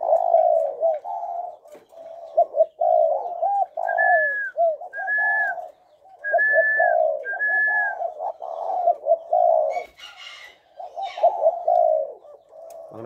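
A Thai dove coos rapidly and steadily, a close, loud run of quick, repeated low notes with short pauses, mixed with a few higher whistled phrases, and a brief rustle near the end.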